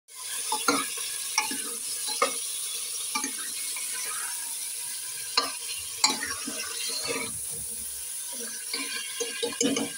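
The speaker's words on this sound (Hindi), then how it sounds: "अच्छे से कलर चेंज होने करके तलना है।" Mutton liver frying in a pan, a continuous bright sizzle with repeated clicks and scrapes of stirring scattered throughout, close and fairly loud with no talking.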